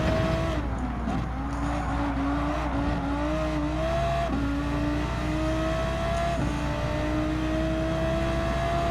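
BMW M4 race car in Gran Turismo 7 holding a steady, loud engine drone, pitch stepping up through gear changes with brief dips between shifts, alone without talk.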